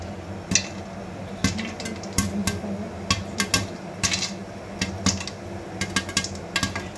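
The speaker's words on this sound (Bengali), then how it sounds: "এই দেখেন ফুটতে শুরু করে দিয়েছে" Popcorn bursts inside a covered pan on a stove over medium heat, a rapid, irregular series of sharp close pops and taps over a low steady background.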